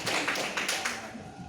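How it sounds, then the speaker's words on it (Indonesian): An audience claps for the panelists at an open public dialogue on investment and regulations in Cimahi, a brief patter of hands that fades away toward the end, with a voice talking over it. "tepuk tangan untuk semuanya para panelis depan ini"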